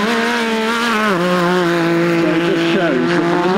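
An off-road competition vehicle driven by John Thorne, its engine roaring loud and steady with pitch shifting as it revs and changes gear, running continuously throughout.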